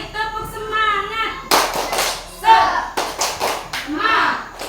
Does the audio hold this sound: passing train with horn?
no